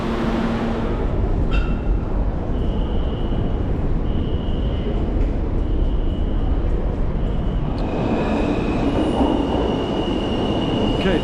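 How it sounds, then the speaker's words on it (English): NYC subway E train pulling into a station: loud, steady rumble of cars with high metallic wheel squeal tones running throughout, rising again near the end as the train slows. "Okay, train number 2 is here"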